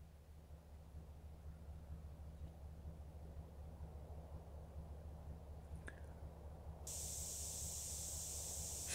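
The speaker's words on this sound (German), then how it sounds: "So, kriegen wir jetzt gleich mal gezeigt, wie man Graffitis sprüht." Spray can hissing as graffiti is tagged onto a wall in GTA San Andreas, a steady loud hiss that starts abruptly near the end after a low background hum and a brief click.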